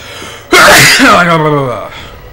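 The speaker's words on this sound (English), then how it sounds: "I'm gonna sneeze!" One loud, close sneeze bursts out of silence with a sharp onset, followed by a trailing voiced exhale that fades.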